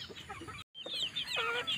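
Rhode Island Red and village chickens on a farm cluck and call close by in short repeated bursts, with a brief silent gap partway through.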